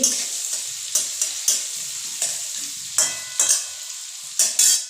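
Fried rice frying in homemade ghee, a soft bubbling sizzle punctuated by repeated sharp scrapes and taps of a spatula stirring the pan at a loose, uneven rhythm, close by.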